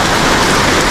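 Heavy rain pouring down steadily, a loud, dense hiss of drops hitting surfaces with no break.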